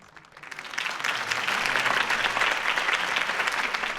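Applause from a crowd after a campaign speech in the Batman Telltale game, swelling from a quiet start into dense, sustained clapping that holds steady to the end.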